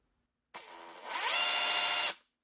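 An 18V brushless cordless impact wrench at its lowest setting, a single burst of about one and a half seconds. The whirring motor ramps up to a steady whine, then stops abruptly, alone in silence.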